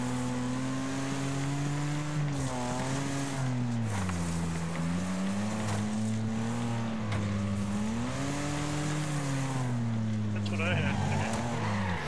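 Cars racing and crashing in the demolition-derby racing game Wreckfest, with steady engine drone rising and falling in pitch as gears shift, plus occasional sharp impacts and skids, with people talking over it.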